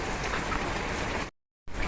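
Heavy rain pours down steadily during a cyclone, a loud, dense wash of falling water that cuts off briefly to silence near the end before resuming.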